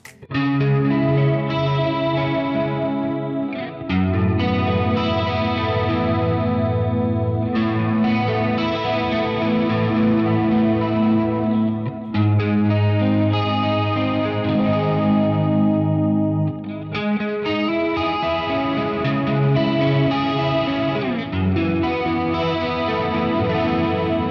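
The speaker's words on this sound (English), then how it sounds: "if I turn the modulations and the delays on, you can hear a really nice sound" Sustained electric guitar chords through a Nux Trident multi-effects unit, swirling with chorus-like modulation and trailing delay echoes, loud and continuous with brief pauses between phrases.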